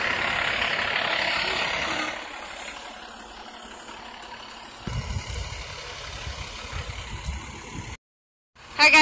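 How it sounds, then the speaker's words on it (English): A fire truck engine idles at a structure fire in Beaver, a steady low rumble with broad noise through most of the stretch, ending in a brief drop to near silence before a final burst. "Friend Township's nice truck."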